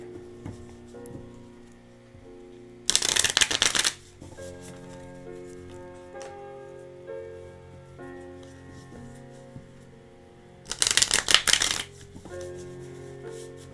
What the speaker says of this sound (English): Let me just shuffle the cards real quick.